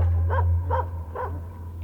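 Puppies barking at Taif, where male baboons take in young dogs: three evenly spaced, fairly close yappy barks over a constant low hum.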